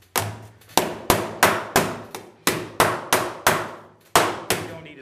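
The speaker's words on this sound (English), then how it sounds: "I don't think I'm gonna be able to use the spoon, so I just use the hammer." A hammer strikes the sheet-metal door skin of a 1934 Hupmobile 417W in a series of about eleven sharp, ringing metallic blows at a steady, slightly uneven pace, close by.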